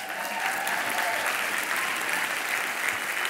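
Audience applause at a personal growth talk, an even wash of many hands clapping that stays steady and fairly distant throughout.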